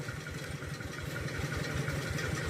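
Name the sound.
engine of a water pump running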